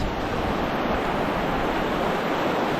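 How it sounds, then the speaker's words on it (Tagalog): Fast-flowing river current rushes as a dense, continuous broadband roar, loud and steady with no pauses, close to the microphone. "Ang bilis ng agos."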